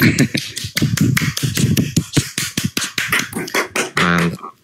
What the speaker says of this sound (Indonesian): Tunggu aku tepuk tangan dulu